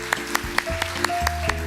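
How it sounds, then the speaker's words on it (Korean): A church congregation claps in a steady, even rhythm during a Sunday service ceremony, with sustained musical tones sounding underneath. "큰 박수로 쳐주시기 바랍니다"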